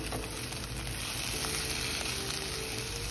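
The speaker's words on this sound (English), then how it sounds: "Add garlic and stir fry" Garlic stir-frying in a pan with cooked tomatoes gives a steady, close sizzle and hiss that fills the whole short clip, with no voices.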